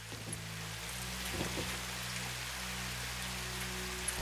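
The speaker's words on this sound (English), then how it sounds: "It's raining." Rain falls in the factory-building game Satisfactory, a soft steady hiss of drops over low droning machinery hum, faint and continuous with a few brief tonal blips.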